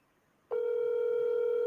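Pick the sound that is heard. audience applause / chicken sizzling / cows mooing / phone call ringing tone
phone call ringing tone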